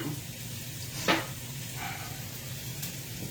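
Vegetables sizzle gently in a pan on lowered heat, a steady soft frying hiss with one brief louder scrape or clatter near the start and a faint clink later.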